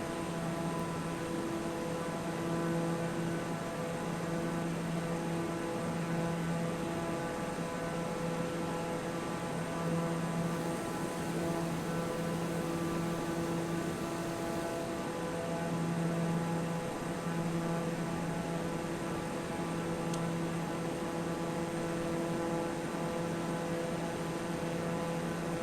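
A steady aircraft engine drone in Microsoft Flight Simulator 2020, a constant tonal hum with a fixed harmonic pitch and even level throughout, unbroken by any other sound.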